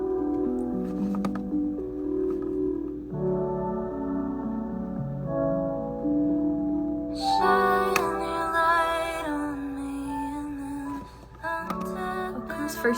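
Piano version of the song, with gentle chords that build into a fuller, brighter passage partway through. The music is heard alone, with no voices.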